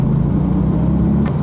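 A manual Porsche 911 997 pulls away just after its engine starts, a loud, close mid-range engine drone building briefly as the clutch engages.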